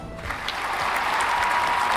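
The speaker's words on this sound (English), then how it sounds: "The crowd goes wild." Crowd applause in a video game festival scene as a winner of best game is announced, a dense steady clapping roar that swells in and holds at full level.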